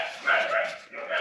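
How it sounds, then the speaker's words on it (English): Dogs barking and yipping in the background, a couple of short bursts of barks and whimpers at moderate distance under a faint ambient hum. "excuse the dogs"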